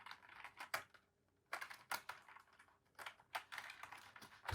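Fingers type in quick bursts on a computer keyboard while entering a search, with short pauses between clusters of clicky keystrokes, close and fairly quiet.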